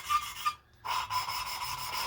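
Gritty rubbing rasp of an engine valve being lapped by hand against its seat at home, in rhythmic back-and-forth strokes with a brief pause, fairly quiet and close.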